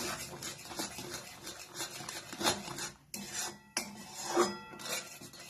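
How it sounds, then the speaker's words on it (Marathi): A spoon scrapes and rasps against a pan while stirring a sweet grated coconut mixture, giving close, irregular rubbing strokes with brief pauses between them. "आता हे चांगलं हलवायचं"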